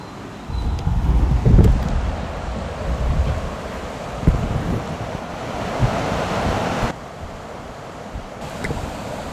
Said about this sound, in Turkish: Şelalenin sesini duymak ister misiniz?